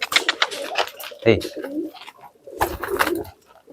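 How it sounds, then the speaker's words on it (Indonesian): Domestic pigeons coo in low, throaty bursts, close by, with someone speaking briefly at the start over the cooing. "Nih, saya punya contoh merpati yang giringannya itu bagus"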